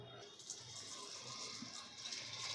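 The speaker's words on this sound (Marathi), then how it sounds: "2-3 वेळेस डाळ एक स्वच्छ पाण्याने धुवून घ्यायची." Toor dal being rinsed with clean water, a steady soft splashing and running-water wash throughout, fairly quiet and close.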